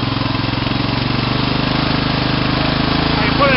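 A racing lawn mower engine, rigged with a throttle pedal and a governor, drones steadily and close up with a strong pulsing rhythm, rising slightly in pitch right at the end.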